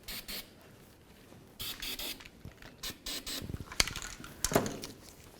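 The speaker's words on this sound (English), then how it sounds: "Go ahead and blast these holes with some copper never sees." Copper anti-seize is sprayed into bolt holes on a 2005-2015 Toyota Tacoma during front sway bar bushing work. Short hissing aerosol bursts are mixed with small clicks and handling noises, close by and moderately quiet, with no talking.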